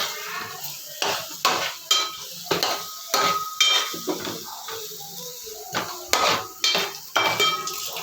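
A spoon clanks rhythmically against a cooking pot while onions and turmeric are stirred for a tomato egg curry, about a dozen sharp metallic knocks over a soft sizzle, with no speech.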